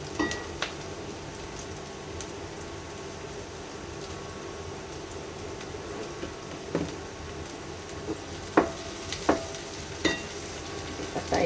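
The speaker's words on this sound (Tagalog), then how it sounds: "Gisa-gisa, gisa-gisa." Vegetables sautéing in a pan give a steady, quiet sizzle throughout, with occasional sharper clinks and scrapes of a utensil stirring toward the end.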